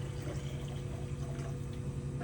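Purified water pours steadily from a container in a kitchen, a soft continuous splashing and trickling stream heard close up and alone.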